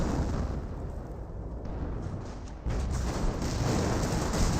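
Artillery shells land and explode in the World War II strategy game Company of Heroes as a dense, continuous roar of booms and rumble that grows louder partway through.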